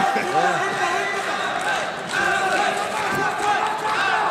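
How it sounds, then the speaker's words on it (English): A loud boxing arena crowd roars and cheers continuously during a fight, a dense wash of many voices with shouts rising and falling throughout. "Crowd is kind of loud."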